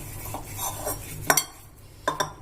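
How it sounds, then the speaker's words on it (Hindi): An oily kadhai is scrubbed with a halved lemon peel, giving soft rubbing swishes followed by two sharp scraping clicks against the metal, close and quiet with no voices. "मैं अच्छे से पूरी नींबू से कढ़ाई को मांझ दूंगी"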